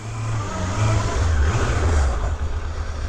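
A 2005 Suzuki GSX750 Katana motorcycle with 10,200 miles idles steadily up close after being refueled from near empty, with a low, even engine rumble that holds for the whole stretch.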